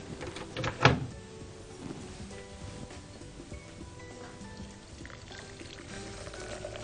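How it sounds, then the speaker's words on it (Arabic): Boiling water poured over tea bags while making iced tea, a brief loud splashing pour near the start that quickly fades into quiet kitchen background. "نحط بقى الميه المغليه"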